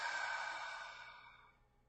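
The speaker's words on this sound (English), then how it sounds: "Breathing." A single slow exhale during meditation, soft and breathy, fading gradually to quiet in a hushed setting.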